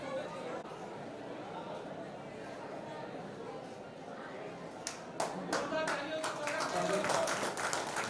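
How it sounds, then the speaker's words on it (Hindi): At a Vaishya Kasaudhan Samaj community event, scattered audience clapping breaks out after a stretch of murmuring room chatter and builds into a few seconds of uneven applause. "ताली।"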